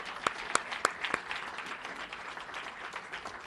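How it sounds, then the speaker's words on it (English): Applause from an audience at a city council meeting, marking the first opening of a Triple H unit: a few sharp individual claps up front over a soft, steady patter of clapping that continues at moderate distance. "So let's all give ourselves a round of applause."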